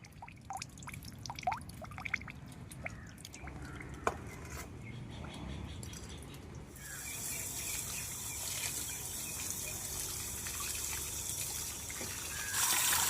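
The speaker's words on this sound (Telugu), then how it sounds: "ఈ కొరమేళ్ళ ముక్కలను శుభ్రంగా కడుక్కుందాం" Korameenu fish pieces are rinsed in water, giving soft sloshing and trickling that swells into a steadier, louder pour and splash partway through, with scattered drips and clinks early on and no talk.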